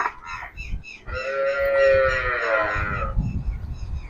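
A Sahiwal cow lets out one long, deep moo that swells and fades, close by, with faint rustling before and after.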